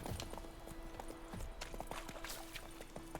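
Hooves of Roach, the horse in The Witcher 3, clip-clop in a quick, steady galloping rhythm, faint and continuous under light game ambience.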